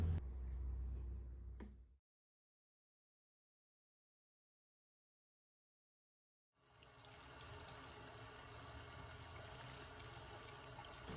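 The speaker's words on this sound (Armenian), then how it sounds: "Անհրաժեշտ է դեղձերը հոսող ջրի տակ սպունգով լավ լվանալ։" Peaches washed with a sponge under running tap water: a short burst of flowing water, a long stretch of silence, then a steady, moderately loud stream of running water to the end.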